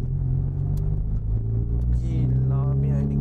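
A small 1.3-litre car fitted with 3-inch exhaust piping, driven in sport mode, gives a loud, steady, close exhaust rumble that rises slightly toward the end, with someone talking over it.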